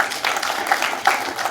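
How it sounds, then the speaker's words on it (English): Audience applause after a call to clap at a Kenyan forest-cover event, a short burst of steady, fairly loud clapping filling the room. "Let's clap for ourselves"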